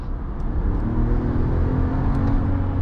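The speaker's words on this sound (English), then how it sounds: "you hear those turbos spool up very aggressively as well" A 2025 Ram 1500 Tungsten's twin-turbo engine whirs and rumbles steadily, rising slightly as it accelerates, with a faint high whine of the turbos spooling on top.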